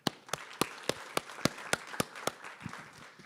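Student audience at a university pitch competition clapping, a series of sharp, evenly spaced claps that sound like only a few hands, close and fairly loud, with no talking.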